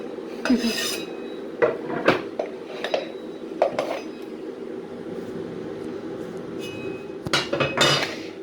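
Vegetables scraped with a knife on a kitchen surface: a series of close, sharp scrapes and clinks come in irregular bursts, with a quieter stretch in the middle and no talking.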